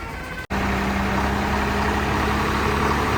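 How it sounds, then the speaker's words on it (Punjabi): A Swaraj 969 tractor engine idles steadily nearby, a low continuous rumble with a faint hum, after a brief dropout at the start. "ਲੋ ਜੀ ਟਰੈਕਟਰ ਪਹੁੰਚ ਗਿਆ ਬਾਈ ਇੱਧਰ 969"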